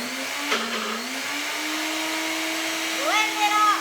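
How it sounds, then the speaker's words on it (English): A kitchen blender whirring cauliflower pasta alfredo sauce, a loud continuous motor drone that dips briefly early on and then rises in pitch near the end as the blades speed up. "So we're just going to put this in the blender."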